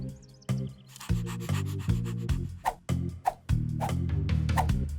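A tiny screwdriver turning tiny screws into a circuit board, heard as a cartoon effect: quick, repeated squeaky scraping strokes in a steady rhythm, loud and close, with no talking.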